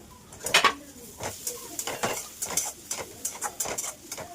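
A spoon stirs fried onion, ginger and garlic in a pan, making rhythmic scraping clinks against the metal over a light sizzle, close up and steady throughout.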